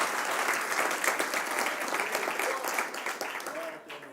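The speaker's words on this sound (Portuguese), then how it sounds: "Aplauda forte o nome dele." A church congregation at a Portuguese-language worship service claps loudly, with dense, sustained applause filling the room. The clapping tapers off slightly at the very end.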